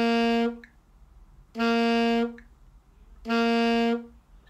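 Three sustained saxophone notes, each a bright, steady tone ending cleanly with a tongued stop, separated by short gaps of near silence.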